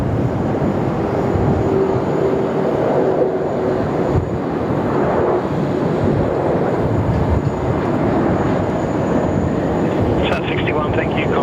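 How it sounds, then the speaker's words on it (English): A Qantas 646 airliner arriving from Perth and touching down at Sydney Airport, its broad engine roar steady and fairly loud throughout, with people talking over it. "Here he is, flying in from Perth. They're Qantas 646."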